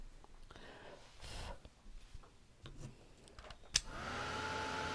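A hair dryer blows on freshly spattered paint on a small model cow, a soft steady whir that rises to a fuller, louder rush in the last second after a faint click.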